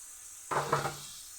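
Mustard paste hits a hot pan of fish curry with a sudden close sizzle that flares, pulses briefly as it is stirred and fades within a second.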